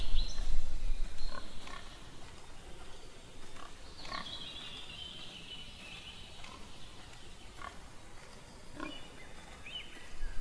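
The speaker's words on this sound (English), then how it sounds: "They look like pigs, maybe." Wild pigs grunting in the hunting video game Cabela's Big Game Hunter, scattered short grunts and squeals spread through a noisy outdoor ambience with buzzing insects, moderately close and not very loud.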